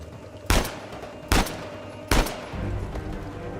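Three heavy bursts of machine gun fire in the video game Uncharted 4, each a loud sharp blast spaced under a second apart, followed by a lower rumbling tail.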